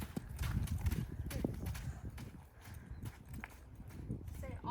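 A horse jogging on a trail, its hooves clip-clopping in a steady quick rhythm, close and fairly loud, with a rider talking over the footfalls.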